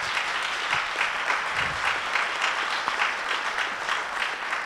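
Steady applause from an audience at an economic talk, moderately loud with even clapping throughout and no voices over it.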